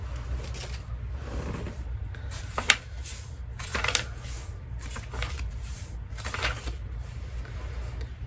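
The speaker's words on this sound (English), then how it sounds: "Boy, this has got a lot of slips of paper in it." Slips of paper tucked inside a book rustle and flutter as it is handled close by, in soft repeated bursts of crisp papery shuffling.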